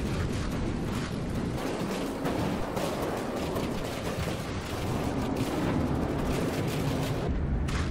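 Continuous heavy rumbling blasts and crackling debris from a battle in the naval combat game From the Depths, dense and loud throughout with no pauses.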